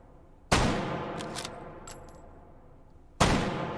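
Two sharp, loud Kar98k bolt-action rifle shots in the VR shooting game H3VR, spaced a few seconds apart, each with a long echoing decay and faint metallic clicks of the bolt being worked between them.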